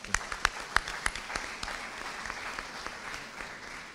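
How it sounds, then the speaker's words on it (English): An audience at a public forum claps for a corporate sponsor: a few loud, distinct claps stand out at first over a thinner spread of hands, then the applause fades into softer, scattered clapping. "Shall we please clap for them?"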